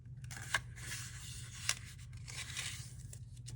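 Paper folded and creased by hand into a DIY treat box, soft crinkling and rustling with a couple of sharper crisp snaps, close and quiet.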